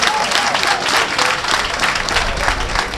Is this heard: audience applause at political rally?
yes